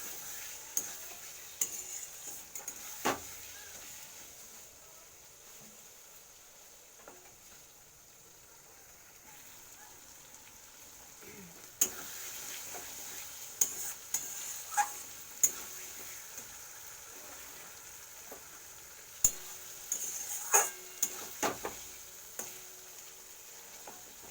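Fish fat cooking down in a pan gives a faint, steady sizzle as it releases oil, with scattered soft ticks and occasional stirring clicks across a long stretch.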